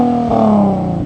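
A Nissan 370Z sports car engine with an aftermarket exhaust gives a short, loud rev, pitch climbing then dropping back over about a second, heard up close.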